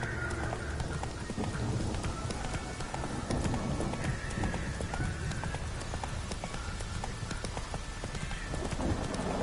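Rapid rhythmic hoofbeats of a horse galloping in The Witcher 3, steady clip-clop throughout, with a whinny and a short vocal exclamation mixed in over game ambience.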